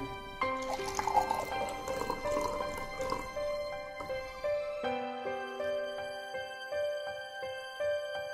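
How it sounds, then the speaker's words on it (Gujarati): Water poured into a glass tumbler, a short steady splashing fill near the start, followed by faint drips, all set against a constant tonal musical background. "કાચના ગ્લાસમાં પાણી રેડું છું."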